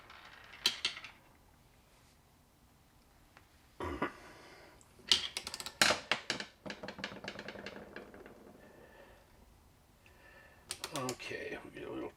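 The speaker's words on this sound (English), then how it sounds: "I'm going to tighten this bolt down a little bit." Bursts of clicking ratchet strokes while a bolt is tightened on a 1966 Mustang during a water pump job, close and sharp, separated by quiet pauses with faint handling noises.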